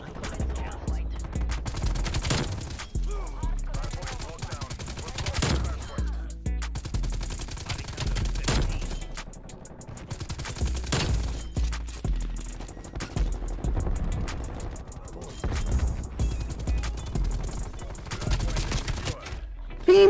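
Rapid automatic gunfire in the Call of Duty Cold War shooter, with an RPD light machine gun loadout, crackling in dense repeated bursts for the whole stretch, loud and close with scattered heavier bangs between volleys.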